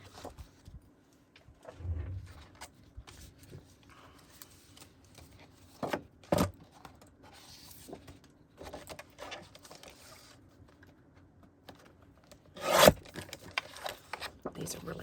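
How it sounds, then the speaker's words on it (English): Thick white cardstock is cut into card fronts, with several short, close scraping slices and paper rustles spread across the stretch and talk in between. "Cut some card fronts."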